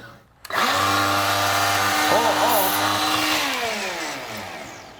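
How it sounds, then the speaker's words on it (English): A DeWALT 20V MAX 7-1/4-inch cordless sliding compound miter saw spins up and makes a smooth crosscut, a loud steady motor whine that rises and then slowly winds down. "smooth cross cutting"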